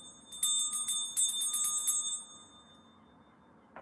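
A bell rung during a live guided meditation chimes in a quick series of bright, ringing strikes, then falls to a soft lingering hum in a quiet room.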